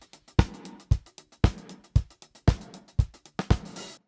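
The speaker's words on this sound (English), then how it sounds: "So let's try it first with just the snare and see how that sounds like." A snare drum runs through an 80s-style gated reverb, giving about eight sharp, loud hits in a steady beat. Each crack swells into a short burst of reverb that is cut off abruptly, with softer drum hits between them.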